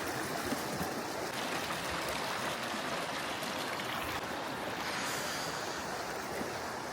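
A stream on the Pennine Way rushes beneath a footbridge, a steady, dense, close roar of flowing water that holds unbroken throughout, with no voices.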